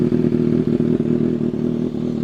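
Superbike fitted with an Arrow aftermarket exhaust idling at a standstill: a loud, close, steady low burble with a regular pulsing beat and faint mechanical clatter, no talking.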